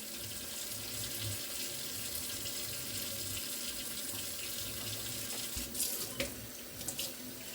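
Hot water pours steadily from a kitchen faucet into a sink while a deep fryer is being cleaned, a continuous close splashing rush with a few brief clinks near the end.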